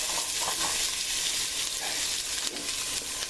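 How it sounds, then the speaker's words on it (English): Steady broadband sizzling of onion and bell pepper sauteing in a hot pan, continuous and close, with faint stirring scrapes and no talking. "next step would be to saute the onion and the bell pepper"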